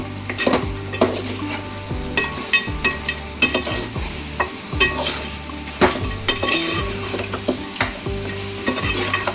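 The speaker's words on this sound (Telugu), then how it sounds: "మనం ప్రిపేర్ చేసుకున్న పచ్చి మసాలా ముద్ద కూడా వేసేసుకోవాలి. ఒకసారి కలుపుకుందాము." Green masala paste stirred and frying in a pan for a trail-style goat trotter curry, a steady sizzle broken by repeated scraping strokes and clinks of a spoon against the pan, close and fairly loud, no voices.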